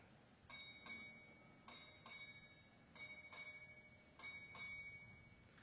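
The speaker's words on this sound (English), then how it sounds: "Time orderly, strike 8 bells." A ship's bell strikes eight bells at a military change-of-command ceremony, rung as four evenly spaced pairs of bright clangs that ring on between strikes, clear and unaccompanied.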